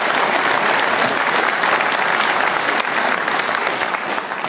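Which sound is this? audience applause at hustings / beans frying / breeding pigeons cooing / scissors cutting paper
audience applause at hustings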